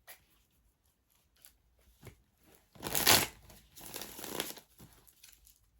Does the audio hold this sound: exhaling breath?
no